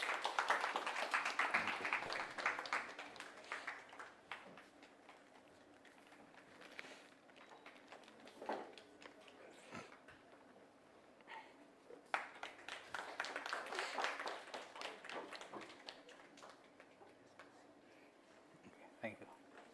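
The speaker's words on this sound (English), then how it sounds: "Can we have a round of applause, please?" Conference audience applause, moderate clapping that rises, eases off, then swells again, heard somewhat distant with speech over parts of it.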